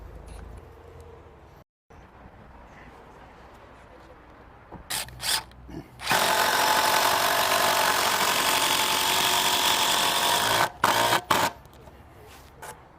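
A power driver sinks 150mm bugle head screws into a Hebel block for a barbecue bench, with a loud sustained whirring burst of several seconds bracketed by short clicks and brief spurts.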